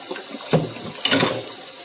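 Hot water runs from a kitchen tap into a sink, a steady hiss of flow with two brief splashing surges, close and alone.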